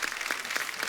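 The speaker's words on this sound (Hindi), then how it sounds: "एक बार जोरदार तालियां हो जाए अंतिम की पूरी स्टार कास्ट के लिए" Studio audience applause on a comedy talk show, a steady wash of many hands clapping at moderate loudness throughout the short moment, with no talk over it.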